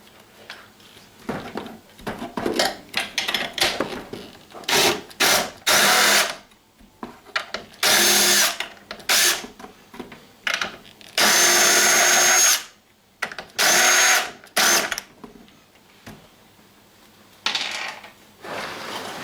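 A power drill whirs in repeated short bursts of varying length while dismantling a guitar amp, starting and stopping irregularly, loud and close, with quieter handling noises between.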